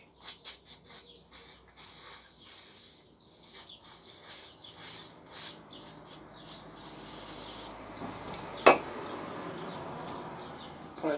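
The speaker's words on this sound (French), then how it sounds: "Pour la tournevis, on va gratter avec." A screwdriver scrapes old gasket sealant off a Stihl FS38 trimmer in short rhythmic scratching strokes, close and fairly quiet, followed by a sharp metallic click and a steadier rubbing.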